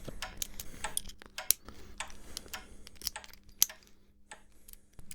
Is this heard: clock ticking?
yes